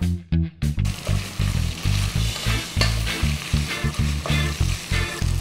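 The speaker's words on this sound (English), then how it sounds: "My brisket is now just kind of sauteing and browning in the pan a little bit." Beef brisket chunks sauteing and browning in a pan with onions for Filipino beef noodle soup: a loud steady sizzle broken by repeated scraping and stirring strokes in a quick, uneven rhythm.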